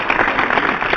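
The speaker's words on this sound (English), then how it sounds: "Let's applaud him." Brief, close clapping for a fantasy league champion among a few podcast hosts, a quick loud patter lasting about a second.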